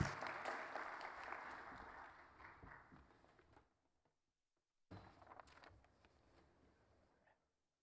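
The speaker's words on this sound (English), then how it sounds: "give them a round of applause" Conference audience applauding panelists at a regional housing summit, a dense burst of clapping that fades over a few seconds, breaks into silence, then returns as lighter scattered claps and shuffling.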